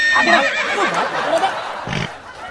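A horse neighs loudly and close by, a wavering whinny that rises and falls for a couple of seconds.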